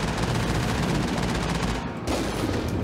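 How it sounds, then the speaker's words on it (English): Enemies fire rocket missiles in the Mass Effect video game, a dense, continuous barrage of rapid blasts with one brief gap near the end before the firing resumes. "They're shooting me with rocket missiles."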